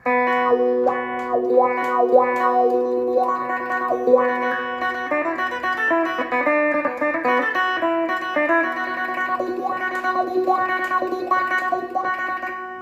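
An electric guitar through a Boss ME-25 kite-sound patch plays a slow melody, sustained notes with shimmering, distorted modulation and a touch of echo, played alone.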